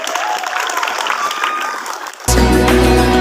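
A group claps together briskly for about two seconds, the applause fading slightly before loud music abruptly takes over for the rest of the moment.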